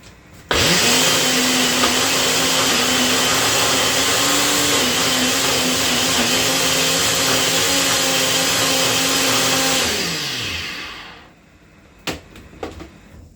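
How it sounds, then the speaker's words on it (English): A blender whirs loudly and steadily for about ten seconds while blending Jamaican roast pork seasoning, then winds down and stops, followed by a few faint clicks. "So we are gonna go ahead now and get it blended"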